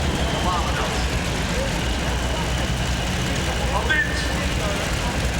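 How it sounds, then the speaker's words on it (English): Tractor pulling engines at a 1996 European indoor pull in the IJsselhallen, Zwolle, rumbling and idling steadily in a large hall, loud low drone throughout with crowd and commentary voices over it. "So, get those engines fired up."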